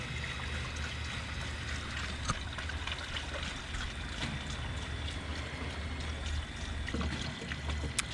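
Coolant poured into the intercooler reservoir of a supercharged Mustang GT gives a steady trickling, gurgling flow of liquid at moderate volume, with a few faint clinks and no talk.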